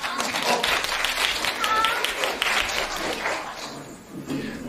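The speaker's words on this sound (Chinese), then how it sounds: "谢谢大家的掌声啊！" Audience clapping fills a crosstalk theater at a comedy show's opening, dense continuous applause for several seconds, with a brief dip near the end.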